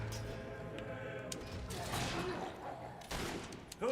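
Gunfire from the video game Fable III, several sharp shots in a burst over a busy game soundscape, with a voice speaking alongside.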